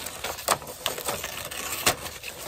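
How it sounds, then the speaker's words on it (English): Gift wrapping torn and crinkled off a mystery fishing tackle box, a series of quick, sharp paper rips and rustles in irregular bursts, close and moderately loud. "I gotta unwrap it."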